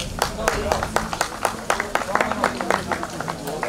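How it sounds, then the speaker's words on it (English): Audience applause for a medalist at the Balkan Road Cycling Championships in Dărmănești: scattered, sharp outdoor claps in an uneven rhythm, with an announcer's voice over them. "Some applause for Elena once again, please."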